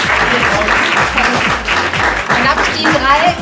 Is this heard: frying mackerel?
no